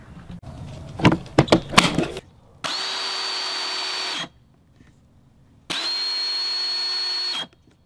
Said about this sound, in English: So over here I have a Ryobi 18 volt bolt cutter.